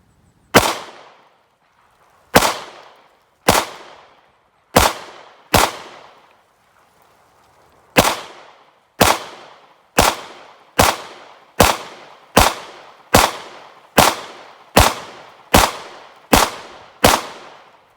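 Taurus TH9c pistol fired with a big magazine, about sixteen sharp, loud shots, spaced irregularly at first and then a quick, even string, each with a short ringing tail.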